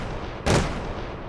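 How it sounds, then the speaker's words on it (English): A single dry stomp sample with no effects: one short, punchy broadband thump standing alone in a song-production context. "we have this stomp sound, which sounds like this without any effects"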